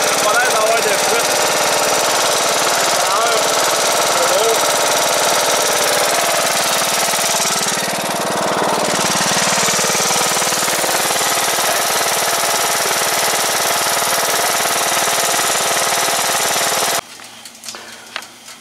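A Briggs & Stratton 21HP engine on a John Deere tractor runs steadily at close range, a loud, continuous mechanical drone, before cutting off abruptly near the end.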